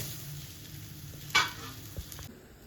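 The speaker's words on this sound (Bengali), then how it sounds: "আর এদিকে আমার সয়াবিনগুলো বেশ ভালোভাবে ভাজা হয়ে গেছে" Soybean chunks frying in oil in a home kitchen make a faint steady sizzle, broken by a single brief clatter or scrape partway through, with no talking.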